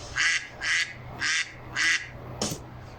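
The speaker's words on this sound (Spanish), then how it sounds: "¿Cómo hace el pato? Vamos a escucharlo tú y yo." A duck quacks loudly four times at an even pace, close by, followed by a short thump.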